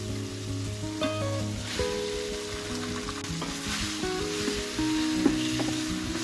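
Chicken frying in a pan with softened tomatoes and aromatics, a loud continuous sizzle with occasional stirring scrapes and clinks, close up, no voices.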